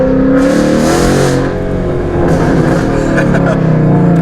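Car engine with new header gaskets revving hard with the throttle held open, a loud sustained close roar that dips briefly and climbs again, no talk.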